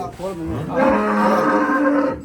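A single long, deep low from a buffalo, loud and close, rising and holding for over a second.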